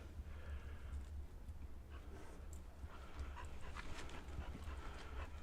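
A dog pants steadily at a campsite beside a U-Haul camper, quick breathy huffs repeating at a fast rhythm, fairly faint and close, over a low outdoor rumble.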